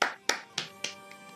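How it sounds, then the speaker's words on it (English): Four or five sharp hand claps ring out in a slow, even rhythm, each followed by a short decay, the last ones fainter, close by and alone without talk. "Everyone clap your hands."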